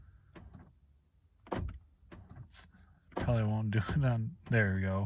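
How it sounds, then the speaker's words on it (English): Power door locks on a 2013 Honda Fit with a constant-locking fault clunk several times in quick bursts, with someone talking briefly between the actuator thumps. "Did you hear how it double locked?"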